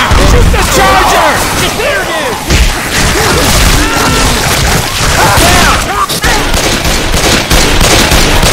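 Rapid bursts of gunfire, loud and close, fired at a Charger during the Hard Rain campaign of Left 4 Dead 2 with Zone mod, with overlapping shots and impacts running continuously throughout.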